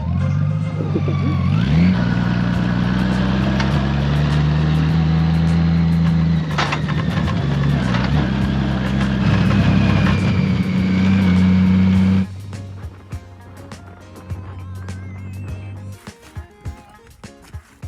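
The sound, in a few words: Honda Goldwing motorcycle riding off road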